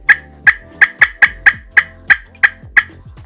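Eight crisp, high-pitched cuts on a slate turkey call ring out loud and close, spaced fairly evenly and then quickening slightly, each a sharp yelping note with a short tail.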